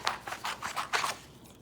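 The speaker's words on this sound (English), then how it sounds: "So cut out your decals, just like loosely, like this." Scissors snip loosely around water slide decals for a custom NASCAR diecast model, giving about half a dozen quick, close crisp cuts in a steady rhythm, with a faint rustle of paper between them.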